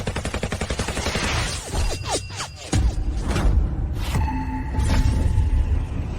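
A volley of gunfire erupts in a dramatic execution scene, rapid overlapping shots and loud cracks with rumbling echoes filling the scene, followed by more scattered bursts.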